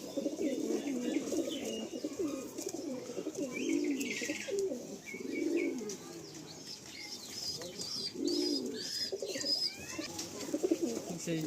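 Kamagar pigeons coo in soft, repeated rounded phrases close by, with faint chirps between them and a voice talking quietly underneath.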